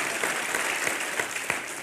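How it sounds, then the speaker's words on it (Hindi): Sustained studio audience applause from a comedy talk show taping, a dense, steady wash of many hands clapping at close range, with a few sharper claps standing out and no talk over it. "जोरदार तालियां होनी चाहिए श्रुति के लिए"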